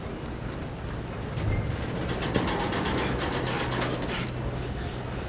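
A train runs in Red Dead Redemption 2 during a train robbery, with a steady, loud rumble and rapid rhythmic clattering from the carriages, and nobody speaking.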